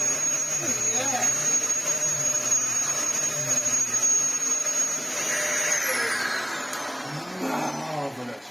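A repaired Dyson vacuum cleaner with its filter still out runs with a constant high whine and roar, while people talk over it nearby.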